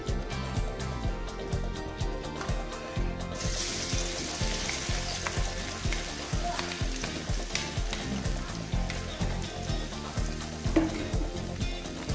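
Chopped ginger and garlic frying in hot oil in a kadai, a steady loud sizzle with frequent stirring scrapes throughout, and no voices.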